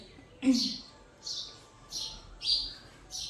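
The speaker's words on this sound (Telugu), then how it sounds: "అండ్ ఈ పక్షులు బాగా అరుస్తున్నాయి" Birds chirp loudly in four or five short, bright bursts spaced roughly a second apart, standing out clearly against a quiet background.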